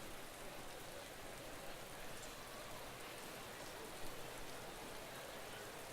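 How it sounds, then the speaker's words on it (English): Steady rain pours in the Motorsport Manager racing game, a dense, even hiss of falling drops that stays constant and fairly quiet throughout, with no talk. "Rain, then off, then more rain."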